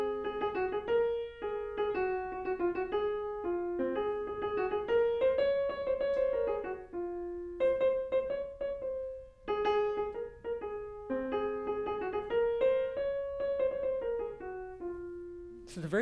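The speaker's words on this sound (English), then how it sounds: "if I put it in Phrygian, it just sounds like this." Melody in the Phrygian mode from a chamber-music discussion of Bartók's Contrasts, a flowing line of sustained pitched notes over a low accompaniment, moderately loud and continuous with no talking.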